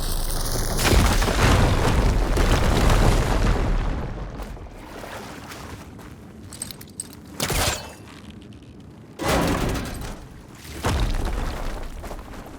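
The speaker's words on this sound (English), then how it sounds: "Should be able to blow up that fire vein." A fire vein blowing up in Horizon Forbidden West, a loud booming blast that fades into a rumbling roar, followed by several shorter bursts of heavy rumble.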